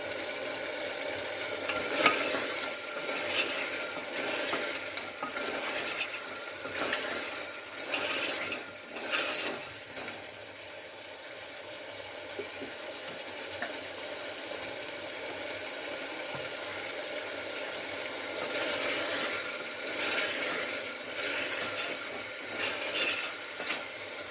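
Meat cooking down in oil with meat masala and chopped coriander, stirred in a pan: a steady close sizzle with scraping stirs and irregular bursts of louder frying, no voices.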